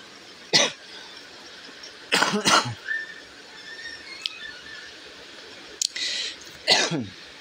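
A person coughs several times nearby in short harsh bursts, some in quick pairs, separated by quiet pauses.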